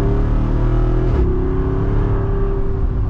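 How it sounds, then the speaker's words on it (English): Jeep Wrangler Rubicon 392 V8 accelerating with its exhaust valves open, a loud, steady engine drone with rising harmonics and a brief shift-like break about a third of the way in, recorded from inside the moving vehicle. "gonna do a little acceleration, and you guys will hear when the exhaust valves open."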